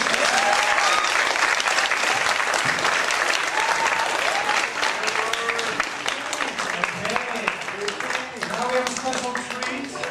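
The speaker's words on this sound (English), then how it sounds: "one more round of applause for him" An audience at a talk gives a sustained, dense round of applause that fills the whole span at close range, with some voices and cheering mixed into the clapping.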